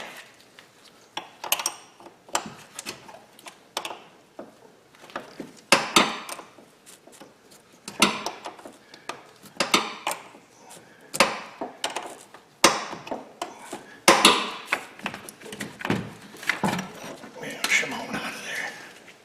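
Metal tool clinks and scrapes come in irregular bursts as a wrench works the negative battery terminal loose on a Dodge Avenger, close up, with no talking.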